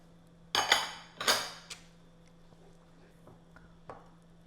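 Utensil scraping and clinking against a pan while stirring a cream and cheese sauce with green onions for garlic shrimp Alfredo: two loud scraping strokes close together, then a few softer taps and clinks.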